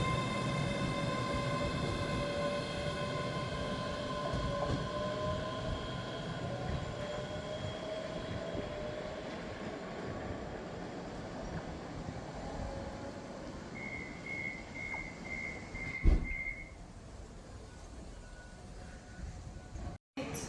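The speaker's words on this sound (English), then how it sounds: "Departing out now is the 1514 Scotrail service from Edinburgh Waverley to Dunblane." A ScotRail Class 385 electric train departs Edinburgh Gateway on a Waverley to Dunblane service, a continuous rolling rumble with a fading motor whine, a brief tonal beep near the end and a sharp knock.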